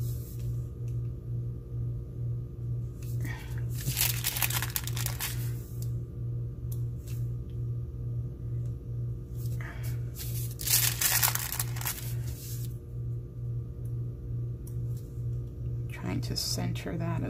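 Sticker sheets crinkle and crackle in several loud bursts as stickers are peeled and overlapped, with a steady pulsing hum underneath and someone talking between the bursts.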